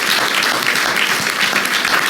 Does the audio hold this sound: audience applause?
yes